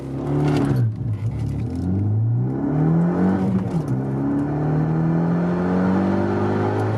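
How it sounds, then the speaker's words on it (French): A Renault Mégane 2 RS hatchback pulls hard from 0 to 100 km/h, its engine note rising loudly through the gears with brief dips at each shift, heard from inside the cabin. "Allez, petite accélération de la Mégane 2 RS, on va vous montrer ça de suite."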